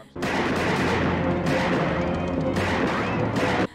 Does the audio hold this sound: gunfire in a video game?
yes